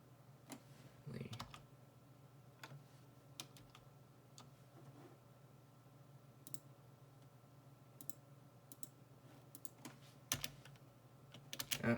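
Loud computer keyboard typing, irregular clicks and clusters of keystrokes close up, running through the whole stretch over a steady low hum.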